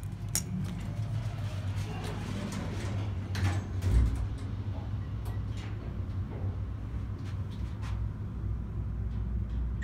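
Dover hydraulic elevator door at Irvine City Hall sliding along its track, a steady low mechanical rumble with a soft thump near the middle, heard up close and alone.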